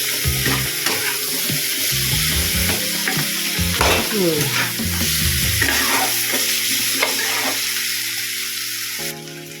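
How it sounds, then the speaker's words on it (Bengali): A fish head is stir-fried in a pan, loud close sizzling with frequent scraping, knocking strokes of a spatula and a rattling clatter around the middle. "নাড়াচাড়া দিয়ে মাথাটা দিয়ে একটু কষিয়ে নেব 2 মিনিটের মতো।"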